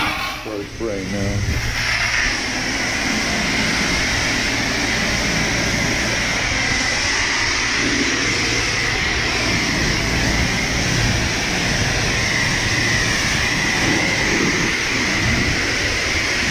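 Steady broadband hiss of water spraying onto a Dodge Challenger R/T during a wash, continuous and fairly loud throughout, with a brief low rumble and faint voices near the start.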